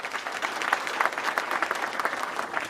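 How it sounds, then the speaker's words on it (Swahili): Graduation ceremony applause rolls on as a full, even crowd clapping, dense and fairly close, with no talk rising above it. "Tumpigie makofi mengine."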